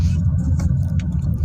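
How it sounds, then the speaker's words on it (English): A Skoda Karoq SUV drives along a highway with a steady, low road rumble and engine drone heard from inside the cabin, plus a faint tick or two. "we'll turn around and do a high speed test of the vehicle"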